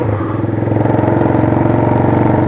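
Motorcycle engine running steadily while riding, a continuous loud close-up drone with a fast pulsing rhythm and faint clatter, no voices.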